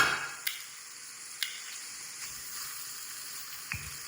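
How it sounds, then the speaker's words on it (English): Shrimp sizzle steadily in a hot pan, a continuous bright hiss with occasional small pops and utensil taps, no voices. "That's what we want to hear. A nice sizzle."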